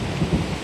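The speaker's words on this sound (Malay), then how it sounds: "Kilat menyambung-nyambung." Heavy rain pours steadily in a thunderstorm during a fishing trip, with a low rumble of thunder rolling underneath the dense, loud hiss of the downpour.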